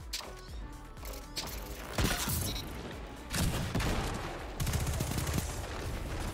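Arbalest linear fusion rifle firing in Destiny 2: loud, dense gunfire with sharp heavy bursts and crashes over a steady, busy game soundscape, continuous across the span, with no speech.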